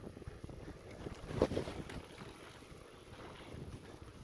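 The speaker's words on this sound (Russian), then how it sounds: "На самом деле ветер есть, он дует мне в спину." Steady wind buffets the microphone while riding a bicycle along a road in Colombia at about 20 km/h, a continuous rushing roar with a brief louder gust in the middle.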